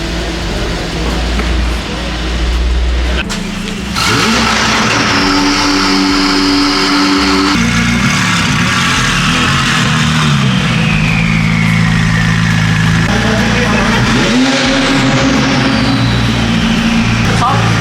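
A Mercedes GT63 fitted with downpipes and an aftermarket exhaust idles and revs loudly nearby, its engine note rising and falling through several blips, while people talk over it.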